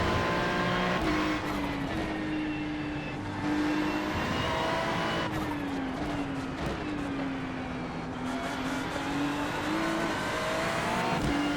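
GT3 race cars circle the Algarve circuit in iRacing with a steady, loud engine drone from the driver's car. Its pitch rises and falls through gear changes and braking, and other cars pass by now and then.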